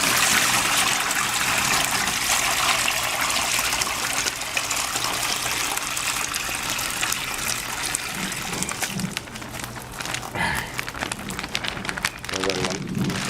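Water gushes steadily as it drains from a drum holding tilapia fry, a loud continuous rush that thins toward the end with some splashing and handling noises.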